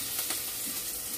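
Chopped ginger, chili, garlic and onion fry in hot oil with a brief, steady, close sizzle and no talking.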